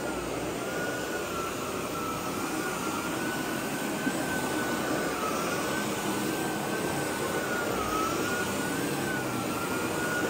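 A Sebo Airbelt D4 Premium vacuum cleaner runs at power setting 2, giving a steady, loud, unbroken roar with a high whine and a faintly wavering tone throughout, with no talk.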